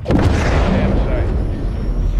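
A missile strike explodes on a SAM site in Call of Duty Modern Warfare 3, a loud, heavy boom with a rumbling low-end tail that fills the whole short stretch, with radio voices talking over it.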